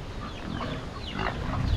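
A pig grunts and snuffles close by, with low rough snorts over a steady farmyard background.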